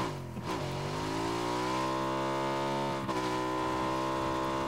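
Video game car engine revving steadily, a sustained loud tone that holds its pitch and climbs slightly, with a brief dip partway through and no talk.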